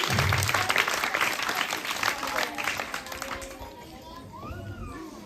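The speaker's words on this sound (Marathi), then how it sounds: "टाळ्या वाजवायच्यात मुलांनी" Children clapping at a school haldi-kunku gathering during a riddle game, a lively crowd of small hands patting loudly at first and then fading, with children's voices and speech mixed in.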